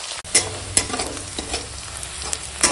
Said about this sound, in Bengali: দেখো ওই তেলেই এখন লঙ্কা দিতে আর রসুন থেতো, দিয়ে সব একসঙ্গে ভেজে নেব।